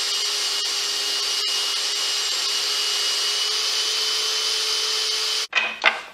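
A power saw cutting bourbon barrel wood runs with a steady high whine for over five seconds, then stops abruptly, followed by a brief rough burst of cutting or rubbing at the end.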